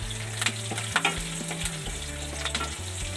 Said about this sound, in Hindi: राई और जीरा हल्के से तड़क चुके हैं